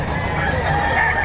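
A chicken clucks and crows briefly, close by, over a dense livestock auction market background in Padre Garcia, Batangas.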